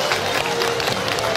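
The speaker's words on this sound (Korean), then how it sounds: "박수 부탁드립니다." Audience at a family concert in Daejeon applauding an honored guest, dense loud clapping that is continuous across the short clip.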